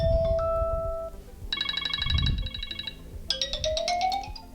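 Classic iPhone ringtones play on an iPhone 15, several short melodic electronic tone sequences in turn, clear and close with no talking.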